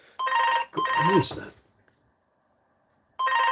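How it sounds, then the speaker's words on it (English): A landline telephone rings in two long bursts, loud and close, with a voice speaking between them and a pause before the ring starts again. "I don't recognise the number, they can keep ringing."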